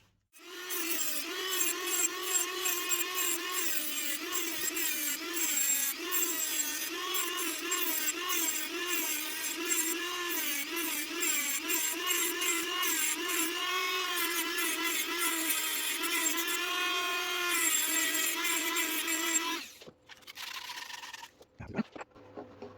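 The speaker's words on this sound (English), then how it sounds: "I'll have to Dremel this lip just a little bit" A Dremel rotary tool grinds down the lip of a Denver 36V 350W hoverboard, a steady, close, high-pitched whine with wavering tone for about twenty seconds, then stops abruptly into brief handling noises.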